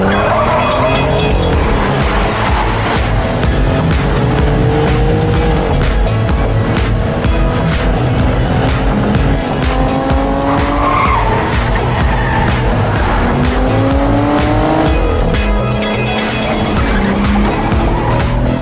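A car pulls away with loud skidding, squealing tires and a revving engine, sustained throughout amid busy movie-scene sound with music underneath.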